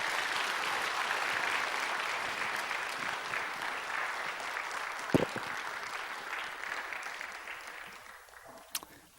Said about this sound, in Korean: 우리 목사님 나오실 때 우리 축복하는 뜨거운 박수로 환영해 주시면 좋겠습니다